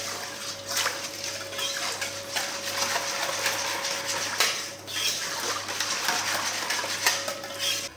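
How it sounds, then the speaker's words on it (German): A spoon stirs seeds into water in a bowl to start a whole-grain spelt bread dough, making continuous swishing, sloshing strokes with light clinks against the bowl, steady and close for several seconds with no speech. "Ich rühre das einmal schön glatt, dass alles so ein bisschen im Wasser vermischt ist."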